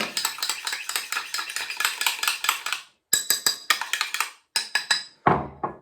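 Natural hair care ingredients are mixed briskly in a bowl, a fast run of rhythmic clinking, scraping strokes from a utensil, pausing briefly twice before a final heavier knock.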